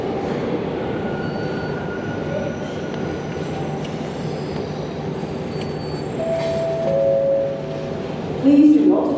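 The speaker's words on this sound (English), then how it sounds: "we're at Partick, which means I get to use the subway" A Glasgow Subway train rumbles and roars into Partick station, wheels squealing briefly near the end, with people talking under the steady mechanical noise.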